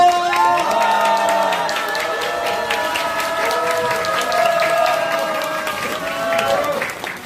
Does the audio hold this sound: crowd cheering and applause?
yes